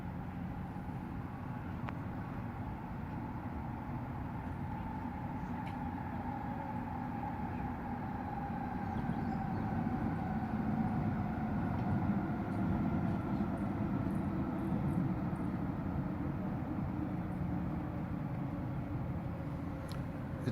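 A train rumbles past at a steady distance, a low continuous roar that swells slightly midway and holds through the end, with no voices over it.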